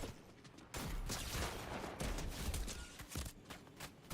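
Bursts of combat SMG gunfire in Fortnite, rapid crackling volleys starting and stopping irregularly at close range, with some mechanical clatter between bursts.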